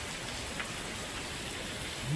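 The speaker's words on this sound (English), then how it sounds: "Yeah, so just down here, it's coming down rain" Heavy rain pours down steadily during a lightning storm in San Antonio, a dense, continuous broadband hiss close by with no pauses and no one talking.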